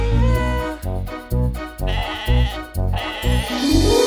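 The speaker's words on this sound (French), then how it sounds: "Un mouton mignon qui adore sauter" Cartoon sheep bleats in a cheerful French children's song, repeated in short rhythmic bursts over bouncy music in a steady beat, loud and upfront.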